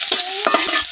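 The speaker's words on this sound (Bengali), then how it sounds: "এখন পেঁয়াজ আর রসুনটা কিছুক্ষণ ভাজা নেম।" Chopped onion and garlic frying in hot oil in a heated wok, with a steady close sizzle and stirring scrapes through a short moment, no voices.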